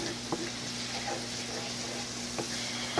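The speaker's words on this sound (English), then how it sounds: "Just kind of fry it all together here" Fried rice fries in a pan with a steady, close sizzle, broken by a few soft taps and scrapes of a utensil and a low hum underneath.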